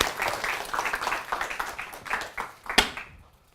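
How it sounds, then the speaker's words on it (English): A small audience gives a brief round of applause at a talk, uneven claps swelling and fading, with a few sharp individual claps near the end before it stops. "Give a round of applause, Amari."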